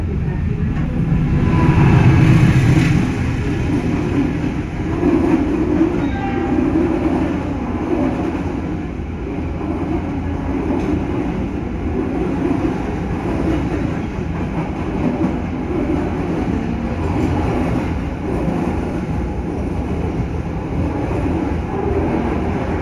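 Steady rumble and clickety-clack from inside the Ambarawa Ekspres economy train running near Semarang, continuous rolling wheels and carriage noise throughout, a little louder at the start, with no talking.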